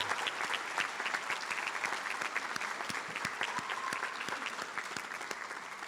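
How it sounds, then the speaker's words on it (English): An audience at a school ceremony gives a sustained round of applause for its students, dense steady clapping from many hands filling the room throughout. "how about one more big round of applause for all of our students?"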